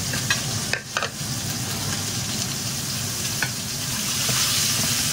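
Veal chop searing in a frying pan, Basque style, with peppers and spring onion: a steady, loud sizzle with brief scraping clatters near the start and middle, no voices.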